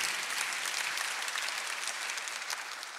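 A church congregation at a Sunday worship service claps, a dense, even wash of many hands that holds steady for three seconds.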